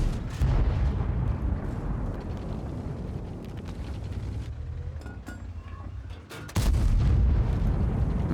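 An M60 tank fires its gun in World of Tanks: loud, booming blasts, one at the start and another near the end after a quieter stretch, over continuous rumbling battle noise.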